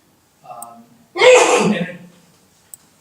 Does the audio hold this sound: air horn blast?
no